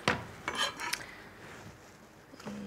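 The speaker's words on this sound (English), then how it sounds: "I'm just going to grate about 1 teaspoon into this" Fresh ginger with the skin on is rubbed over a grater in a few quiet, raspy strokes with light scraping clicks, close and alone.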